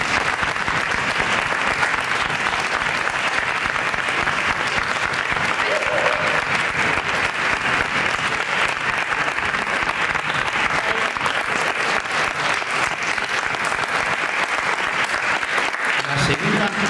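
Theatre audience at a classical theatre festival giving sustained, dense applause that stays loud and even throughout, with a voice briefly audible beneath the clapping.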